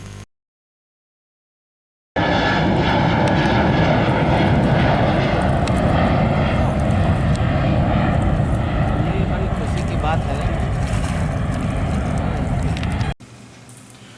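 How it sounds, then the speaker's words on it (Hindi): A passenger airplane taking off from Darbhanga airport bound for Mumbai, a loud sustained engine roar that starts abruptly after a short silence and holds steady before cutting off near the end. "मुंबई के लिए हवाई जहाज ने भरी उड़ान।"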